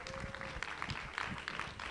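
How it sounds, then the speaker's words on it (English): An audience gives a short round of applause for volunteers at an active-learning session. The scattered claps form a brief, moderately distant burst lasting about two seconds. "Give them a round of applause."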